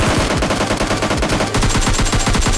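Rapid automatic gunfire in the mobile shooter PUBG Mobile Lite, a loud close burst of fast repeated shots with a short pause partway through before another rattling volley.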